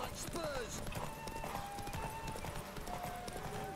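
Roach the horse's hooves clip-clop steadily in The Witcher 3, a rhythmic trotting patter with gear jingles, running under continuous talk from a player.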